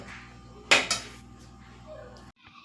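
A spoon scrapes and clatters in a pan while guvar (cluster bean) and potato curry is mixed with fresh coriander: two sharp metallic knocks close together, then quieter faint scraping.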